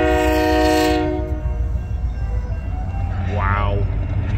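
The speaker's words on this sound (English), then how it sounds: "And then, meanwhile, there's a train, like, right here." Train hauled by an SD60 locomotive sounds a loud, close horn blast, then rumbles steadily past with a second, shorter horn call near the end, while people talk nearby.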